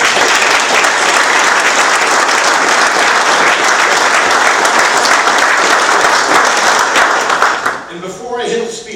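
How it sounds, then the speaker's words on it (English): Loud, dense applause from a dinner audience at a Lincoln Reagan political dinner in Madison, Indiana, sustained for about eight seconds before fading out as the room quiets. "your entire party deserves a round of applause"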